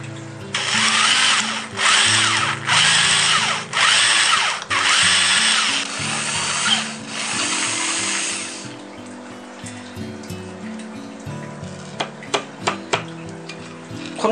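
A power drill bores a hole for a homemade aquarium plant pot in a goldfish tank. It whines loudly and close in several short bursts, then falls silent, leaving quieter clicks and knocks from handling.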